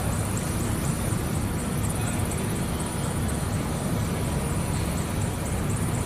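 Helicopter passing overhead, a steady broad engine and rotor drone with a faint rhythmic chop up high, constant and fairly loud with no talk.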